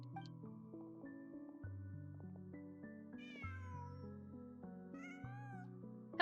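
A cat meows in Genshin Impact over soft layered game music, two short high meows near the middle and another toward the end, close but fairly quiet.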